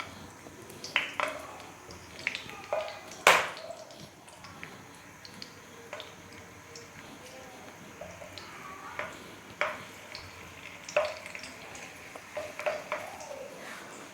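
Capsicum peppers stuffed with potato frying in a pan, giving a soft continuous sizzle with scattered pops and clinks of the pan and utensils over about fourteen seconds.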